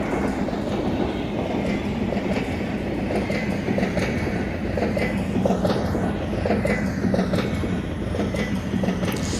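A passing express train in Indian Railways Train Simulator, led by a diesel locomotive on the opposite track during a high-speed crossing. It gives a loud, continuous rumble with rapid clickety-clack of wheels on rails and faint metallic squeal.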